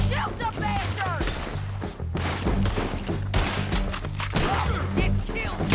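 Rapid gunfire from a Red Dead Redemption 2 firefight, dense, overlapping shots and cracks crowding the whole stretch at steady loudness over a low droning game score, with occasional shouted voices mixed in.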